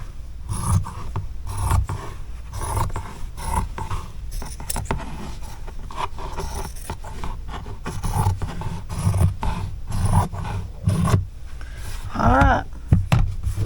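Scissors or a rotary cutter rasp and snip through quilted fabric for a patchwork sweatshirt, close and moderately loud, in irregular scraping strokes with brief pauses.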